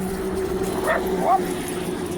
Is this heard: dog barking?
yes